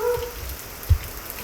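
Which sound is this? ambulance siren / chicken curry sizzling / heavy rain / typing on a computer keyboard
heavy rain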